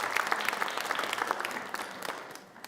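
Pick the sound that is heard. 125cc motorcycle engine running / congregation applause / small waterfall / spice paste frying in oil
congregation applause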